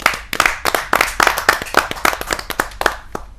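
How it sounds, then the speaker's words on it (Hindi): An audience at a Hindi kavi sammelan poetry gathering claps to welcome poet Veena Upadhyay, crisp, close, separate hand claps in an uneven rhythm that thins out toward the end. "आप जोरदार तालियों से उनका भी अभिनंदन"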